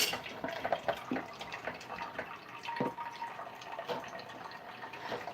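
Hot water pours from a Keurig machine in a thin, steady trickle with faint drips and splashes, quiet and close, with no talking.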